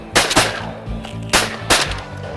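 Shotgun fired at pintail ducks during a hunt on the Texas coast: four sharp, loud blasts in two quick pairs with short pauses between.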